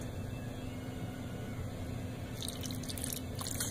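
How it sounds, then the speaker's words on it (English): Acetone nail polish remover is poured into a beaker: a steady, soft trickle of liquid with faint dripping, heard alone and close by over a constant background hiss. "what I'm going to do is pour some of this into the beaker"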